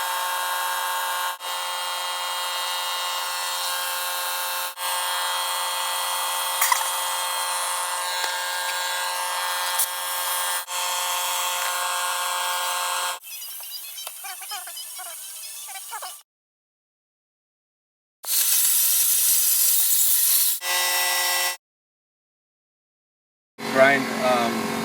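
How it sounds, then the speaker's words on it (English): A power grinder cuts grooves into a cracked concrete basement foundation wall, loud and steady and close by. It runs in long bursts, stops, then restarts several times with short silent gaps between. "Grind some grooves in this concrete so we can apply the staples to it."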